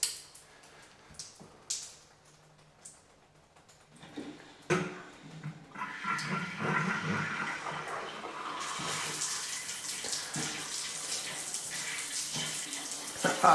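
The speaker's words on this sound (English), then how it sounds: "Running water in the shower the first time." Water runs for the first time from a newly plumbed shower head, the valve only barely open, starting with sputtering bursts and knocks as air clears before settling into a steady, hissing spray.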